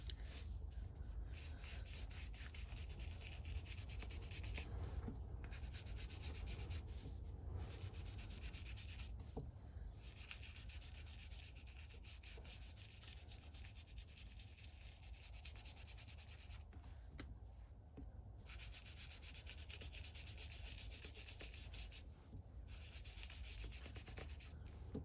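Paper being distressed by rubbing or sanding, a quiet, steady scratchy abrasion repeated in back-and-forth strokes with brief pauses between passes, close and faint, without talk.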